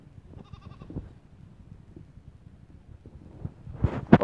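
Goats bleat on a farm while being herded: a few short, wavering bleats early on, then a louder, closer burst near the end, with low rumbling handling noise throughout.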